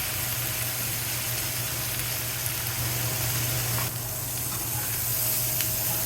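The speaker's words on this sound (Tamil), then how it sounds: "கோவக்காய் நல்லா ப்ரௌன் கலரில் மொறுமொறுன்னு வர்ற வரைக்கும் வதக்கணும்" Ivy gourd (kovakai) sautés in a pan over a medium flame, giving a steady, continuous sizzling hiss with no talk.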